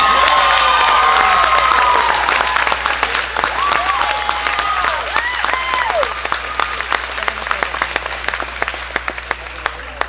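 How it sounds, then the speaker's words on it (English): Loud audience applause and cheering at a church missions event after a teenage skit on evangelism is announced as the winner, with whoops and shouts over dense clapping that slowly thins over about ten seconds. "Enjoy that applause, it's all you get."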